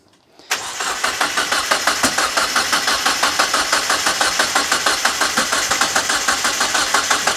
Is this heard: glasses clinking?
no